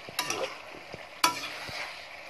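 Pork dry fry with blood and liver is stirred in a pan, with a couple of sharp scrapes over a soft, steady sizzle, quiet and close, no talking.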